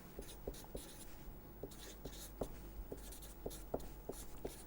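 Chalk or pen sketching on a board, faint scratchy strokes and light taps come in short irregular bursts with pauses, close and quiet, no voice.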